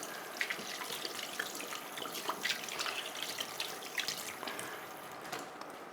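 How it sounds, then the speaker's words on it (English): Hands are rinsed under a running tap in a kitchen sink, giving a steady, fairly faint splash of water with small drips and no talk. "Okay, giving my hand a rinse."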